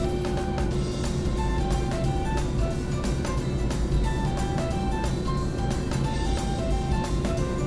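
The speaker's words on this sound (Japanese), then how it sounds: "はい、バックストレートエンドのヘアピンに向けて今加速一番速度が上がるところです" A Subaru WRX accelerates hard down a race circuit's back straight. Its engine makes a loud, steady, continuous roar with rising tonal whine throughout.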